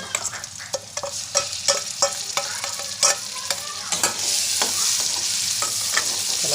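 Onion, tomato, ginger and garlic paste stirred and frying in oil in a pan: a rhythmic series of spoon scrapes over a steady sizzle that grows louder and denser toward the end.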